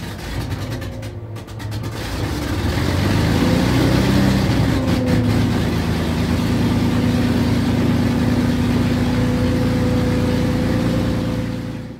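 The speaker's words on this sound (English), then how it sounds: "That was the unmistakable sound of a Lancaster bomber from the Battle of Britain Memorial Flight." A Lancaster bomber from the Battle of Britain Memorial Flight, powered by Rolls-Royce Merlin engines, gives a deep, steady droning roar that swells in and holds loud and continuous.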